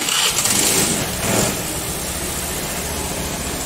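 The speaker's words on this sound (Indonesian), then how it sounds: "Kita tes nyalakan motornya." Honda Vario 110 scooter engine starting, a short burst of cranking and catching that settles into a steady, even idle, close up and alone with no talk.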